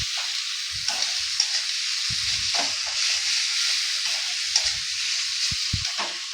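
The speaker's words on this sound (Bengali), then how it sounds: "পেঁয়াজ জিরা আদা বাটা টমেটো সব দিয়ে মশলাটাকে আমি ভালো করে ভেজে নিচ্ছি" Masala of onion, cumin, ginger paste and tomato frying in a little oil for an aloo potol dalna, producing a steady close hiss of sizzling with occasional soft scrapes and knocks of a stirring spoon, no voices.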